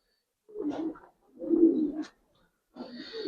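Giribaz pigeons give three separate low, throaty coos close up, with short silent gaps between them.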